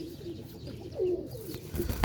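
Pigeons of teddy breed kept in a loft give a few soft, low cooing calls at close range, with a louder coo near the end and no talk.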